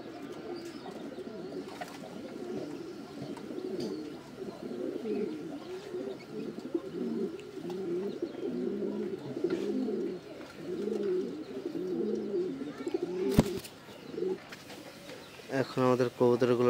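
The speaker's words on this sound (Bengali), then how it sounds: "অনেক সুন্দর কবুতর।" Pigeons coo softly and repeatedly in a nearby loft, a low rhythmic burbling that runs on throughout, with a few brief clatters and other noises near the end.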